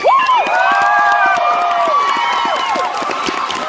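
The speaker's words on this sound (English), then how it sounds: "please give your fellow students a round of applause" Students applaud and cheer after a Hogwarts-themed dance spell skit, with bright shouts and whoops rising over steady clapping that stays loud and dense throughout.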